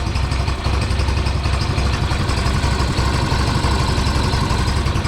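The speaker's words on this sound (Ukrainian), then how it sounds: "Чути з фільтра там сипить" A small Chinese scooter engine runs steadily at idle, with a constant broadband hiss from the air filter over the low rumble, close and loud throughout.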